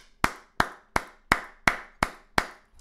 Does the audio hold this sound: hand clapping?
yes